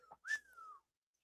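A short whistled tone that slides gently downward, preceded by a couple of faint breathy sounds, then silence.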